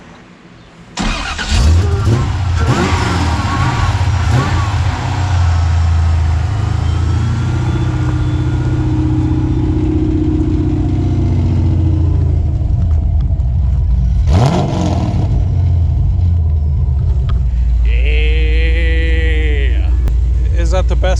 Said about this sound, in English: Jonathan's about to start it up for the first time after we replaced the starter